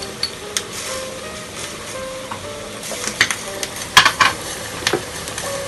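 Cumin seeds (jeera) added to a hot pan, a faint steady sizzle with scattered clinks and scrapes of a spoon stirring against the pan.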